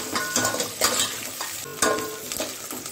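Sambar tempering of dried red chilies, vertically sliced onion and curry leaves fries in hot oil, sizzling steadily while a spoon stirs and scrapes the pan in several sharp bursts, close and without talk.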